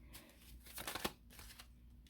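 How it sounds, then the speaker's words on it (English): Tarot cards are shuffled in soft, quick riffling bursts that build to a denser flurry midway, quiet and close with no speech. "Oh, even my shuffling was a little crazy."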